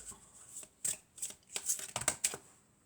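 Tarot cards shuffled by hand, a series of quiet, crisp riffling bursts and soft flicks that come in uneven spurts, close and faint, with no voice.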